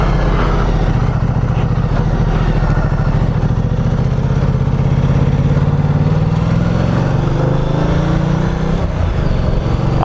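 A Ducati Multistrada 1200S motorcycle engine runs loud and close at a steady idle while the rider works the clutch friction zone, with a slight rise and dip in revs.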